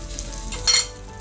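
A dosa crepe cooking in oil on a pan gives a soft, close sizzle, with a short brighter burst of hissing partway through the brief moment.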